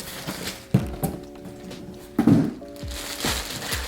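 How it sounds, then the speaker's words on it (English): Crinkly packaging is torn and crumpled off a Kate Spade Eva medium zip top satchel, with a few sharp rustling bursts and softer crackles close up, no talking. "unwrap the bag."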